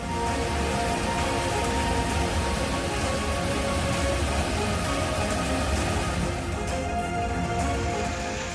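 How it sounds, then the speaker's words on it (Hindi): Heavy rain pours down in Dehradun, Uttarakhand, a dense, constant hiss of drops that stays loud and even from start to finish, with no voices. "राजधानी देहरादून में लगातार बारिश का सिलसिला जारी है।"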